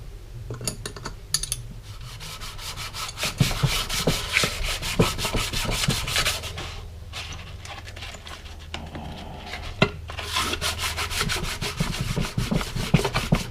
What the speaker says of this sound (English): I'm gonna do it with a bit of a fine lapping paste to finish it off